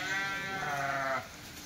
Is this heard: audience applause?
no